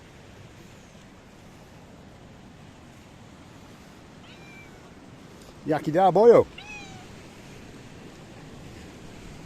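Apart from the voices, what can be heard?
cat meowing near Kefalos Beach, Paphos, Cyprus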